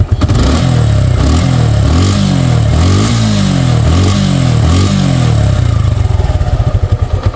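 Suzuki Gixxer Monotone motorcycle, a used Japanese single-cylinder bike, fires up close and loud, its engine revving in a steady series of rhythmic pulses before settling into a rapid, even idle near the end.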